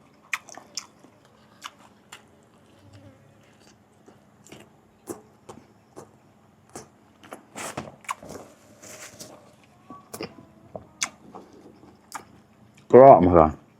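Crunchy bites and chewing of miang pla tubtim, fish and leaf wraps, heard close up as scattered crisp crunches with quiet talk between, ending in one loud burst of crunching.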